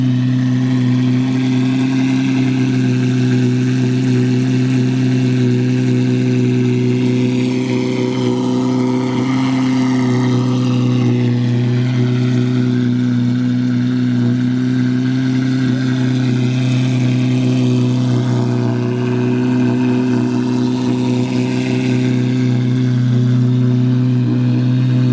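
A Lamborghini Aventador SV V12 engine rumbles loudly and steadily at idle, warming up for about 25 seconds, with subtle rises in pitch suggesting light revving and no voices over it.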